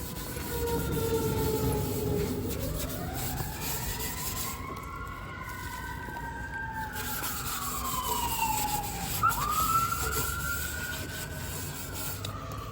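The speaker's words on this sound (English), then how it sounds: "that is the sound of the police" A wailing police siren sweeps up and down in long, rising and falling tones, fairly distant, over steady scrubbing of a flat-top griddle and street noise.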